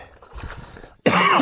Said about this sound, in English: I got a pretty good little cough still.